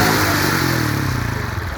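A custom-built CJ180 motorcycle engine revs loudly up close, a rough mid-pitched roar with a clattering pulse that settles into a steady throbbing idle, no voices.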